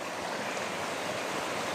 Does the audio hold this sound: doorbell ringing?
no